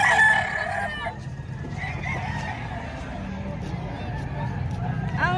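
Roosters crow at a live chicken market in Padre Garcia, Batangas, the crowing rising over a constant low crowd hubbub and scattered voices, with a sharper call near the end.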